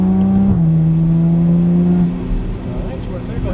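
A Porsche Cayman GTS on a race track, its engine droning loud and steady, then dropping in pitch as it downshifts and settling lower, with a person talking over it.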